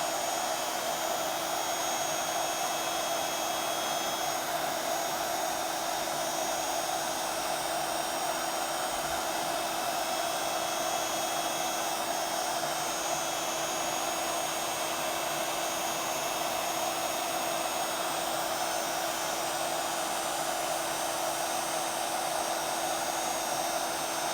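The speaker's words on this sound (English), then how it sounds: "we're just going to hold the heat gun still" A heat gun blows continuously while melting embossing powder on a card-making project, a loud, steady fan-and-air roar held close the whole time with no talk.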